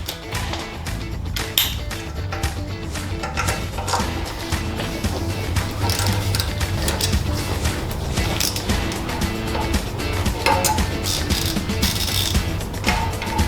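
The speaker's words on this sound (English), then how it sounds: "So first I'm going to take the header bolts off." A ratchet wrench working the header bolts loose on a 2024 Yamaha MT-07 motorcycle, heard as a continuous close clicking and rattling of the pawl with light metallic taps throughout, without talking.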